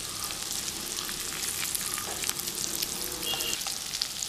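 Eggs fry in masala in a pan for egg biryani, producing a steady, moderately loud sizzle with light crackling throughout and no talk.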